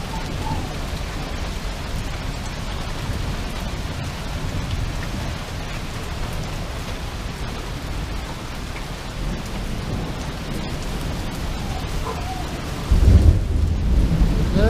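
Heavy, steady rain pours down in a thunderstorm, a constant hiss close by, until a deep rolling thunderclap booms in near the end.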